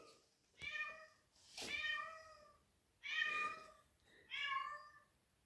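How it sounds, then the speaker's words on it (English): A cat outside a door howls in four long, drawn-out meows separated by short pauses, loud and fairly close, at night in a resort room in Djerba, Tunisia. "we've got a cat outside the door that is howling to come in."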